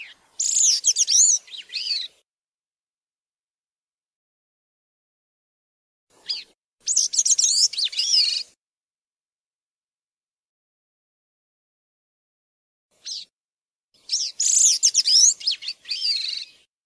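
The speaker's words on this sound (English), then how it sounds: "they have that ethereal flute-like sound that most thrush songs do" Thrush singing three separate songs, each a short burst of clear, fluting, burry notes ending in a lower descending phrase, with long silent gaps between; close and clean, with no other sounds.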